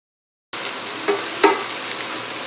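Sliced red onion and vegetables hit a hot pan, sizzling steadily and loudly, with two brief stirring scrapes partway through.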